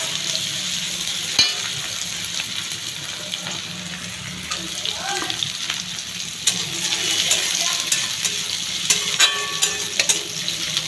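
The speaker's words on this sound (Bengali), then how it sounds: "এবার পেঁয়াজ কুচি আর রসুন কুচিটা দিয়ে দিলাম তেলের উপর।" Chopped onion and garlic fry in hot oil with a continuous sizzle. Occasional stirring clinks and scrapes sound from the pan.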